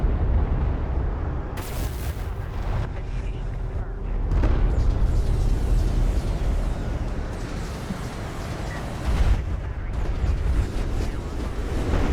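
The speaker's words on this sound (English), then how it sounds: "This is the barrage on the main base too." Artillery barrage pounding a main base in a strategy-style battle game: a sustained, heavy rumble of repeated explosions with several sharper blasts standing out, loud and continuous throughout.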